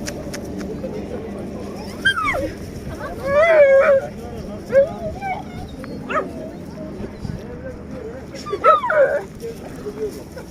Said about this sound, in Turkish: Çok fazla köpek var ya.